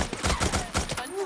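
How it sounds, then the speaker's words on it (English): Rapid bursts of gunfire in the Days Gone video game crackle in a quick close volley for about a second, then stop. "Gunfire's gonna bring in more"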